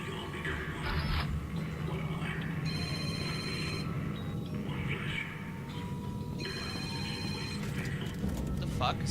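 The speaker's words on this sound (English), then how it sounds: "Holy shit, it's my phone" A mobile phone ringing in a room during a Dead Space 2 gaming session, repeated electronic ring bursts over continuous game background noise.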